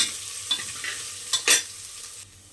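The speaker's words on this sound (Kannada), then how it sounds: "ಈರುಳ್ಳಿ ಫ್ರೈ ಆಗಬೇಕು" Onions frying in a pan for drumstick leaf saaru, a faint sizzle with a few brief stirring scrapes.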